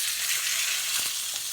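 A steak sears in a smoking hot pan, a loud, dense, continuous sizzle up close with a couple of faint spits and crackles.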